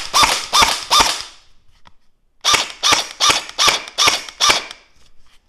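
A Bohan SLR AR15 gel ball blaster fires loud, close, crisp cracking shots. A burst of three comes first, then after a short pause a run of six evenly spaced shots.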